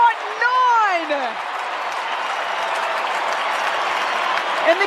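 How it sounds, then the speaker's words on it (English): Stadium crowd at a Carlton versus West Coast AFL football match roars after a goal, a dense sustained wash of cheering, with a commentator talking loudly over the start. "And the crowd erupts as Charlie Curnow's goal fest continues."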